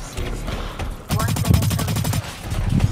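Rapid bursts of automatic gunfire in the shooter game Blacklight: Retribution, a dense run of close, loud shots lasting about a second, then a short pause and more firing.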